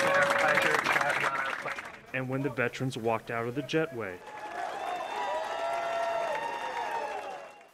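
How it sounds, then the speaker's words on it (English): Applause and crowd noise for returning veterans at an airport, a loud burst at first, then someone narrating over quieter clapping and cheering that swells again behind him. "There was applause from inside the plane."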